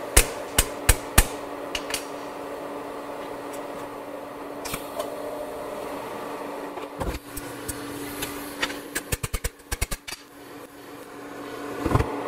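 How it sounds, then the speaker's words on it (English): Sharp hammer taps land on the high spots of a copper water tank during tack-weld fit-up, a few spaced strikes early, then a quick cluster of ringing blows later over a steady background hum. "where the fit up isn't quite perfect, I'll tap the high spot down"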